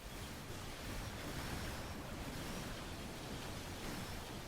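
A tornado spell in the video game Earth Defense Force World Brothers gives off a steady roaring whoosh of rushing wind, loud and unbroken throughout.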